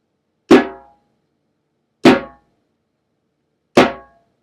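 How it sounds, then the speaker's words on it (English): Three slow, evenly spaced slap strokes on an African hand drum, each a sharp, bright crack that decays quickly into silence, close and alone. "The third and probably most difficult stroke is called the slap."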